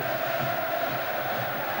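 A large football crowd at an England versus Argentina match in 2000, a steady distant roar of thousands of fans with a faint rhythmic chant pulsing underneath.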